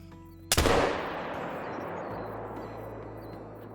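A single loud rifle shot fired at a buck in the Call of the Wild hunting video game, a sharp blast followed by a long rolling echo that fades slowly over several seconds.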